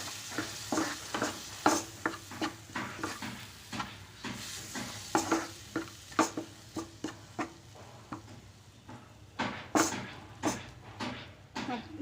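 Tomato paste being stirred into a stuffed capsicum gravy in a pan, with repeated scraping strokes of a spoon and a soft simmering sizzle underneath, close and steady throughout.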